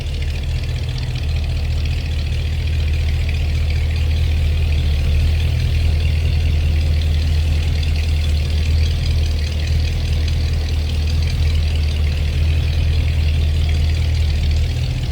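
A 1957 Chrysler Windsor two-door hardtop's engine idles with a steady, deep low rumble, even and unbroken throughout, with no talk over it.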